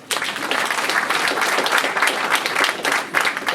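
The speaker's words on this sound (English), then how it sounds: "Let's keep a round of applause going for Sheila." Audience at the launch of the National Diversity Institute of Australia in Adelaide applauding a speaker, Sheila, with brisk, even clapping that starts abruptly and stays steady.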